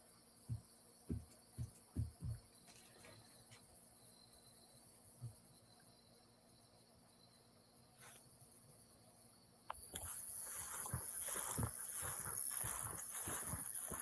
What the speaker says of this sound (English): Just sounds like crickets right now.